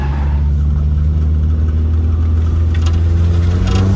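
Turbocharged BMW M43 four-cylinder in a 316i/318i on a drift track, a loud steady engine drone with strong low harmonics running throughout, pitch holding fairly level.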